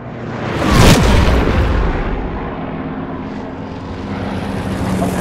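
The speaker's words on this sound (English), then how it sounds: "to get that shoo flyby sound and to make it a little bit more cinematic" A designed airplane flyby sound effect roars past in a loud whoosh with a heavy booming cannon hit near the start, then the rumble fades slowly.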